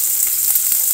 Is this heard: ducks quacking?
no